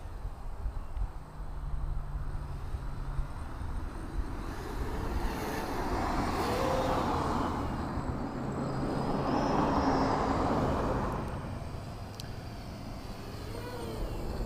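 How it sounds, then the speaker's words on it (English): A Blade 200 QX mini quadcopter with brushless motors flies nearby, a steady whirring buzz that swells and fades as it moves, with a faint high motor whine above. "this is the smallest quad that's made that has brushless motors on it"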